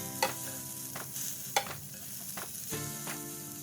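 Sliced onions and ten to twelve garlic cloves frying with fresh coconut being roasted for a soybean curry, a continuous close sizzle broken by several sharp scraping strokes of a spatula against the pan.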